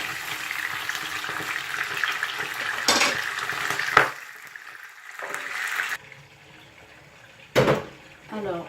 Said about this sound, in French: on laisse bien la viande revenir, on va voir, jusqu'à ce qu'elle devient bien dorée